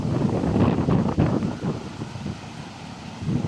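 Strong stormy wind buffets the microphone over large, rough ocean waves crashing near the shore during Typhoon Uwan, a loud continuous roar with surging swells.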